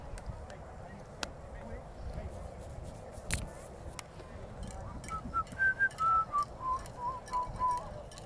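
Several short, bright whistle blasts from a referee at a varsity football game, starting midway and repeating in a quick uneven series over steady crowd and broadcast background noise, with talk in the background.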